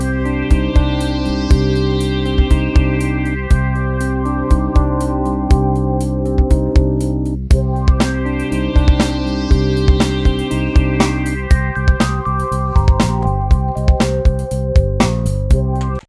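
Stock Apple loops with electric piano chords, bass line, drum kit and synth pads play in a steady groove, loud and upfront with regular drum hits and a shift in the pattern near the end; no voices.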